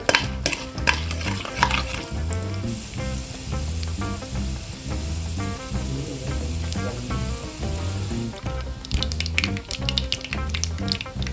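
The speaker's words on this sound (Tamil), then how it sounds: "கடுகு பொரிஞ்சிருச்சு. கடலைப்பருப்பு செவந்துருச்சு." Mustard seeds and chana dal spluttering in hot oil, a dense run of rapid crackling pops over a constant sizzle, with what sounds like stirring throughout and no voices.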